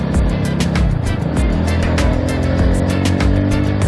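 A Rusi Classic 250 motorcycle accelerates away with a steady, loud engine drone that holds throughout, mixed with road and wind noise and no talking.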